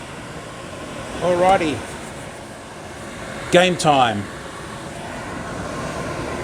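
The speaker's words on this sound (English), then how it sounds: "I obviously need my exhaust fan going." A kitchen exhaust fan hums with a steady, even whoosh as a wok heats for fried rice, a voice briefly speaking over it twice.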